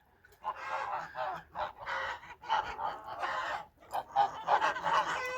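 Crested geese and young blue Kholmogory goslings in a farmyard, honking in a dense, overlapping run of loud calls that continues with barely a pause, close by.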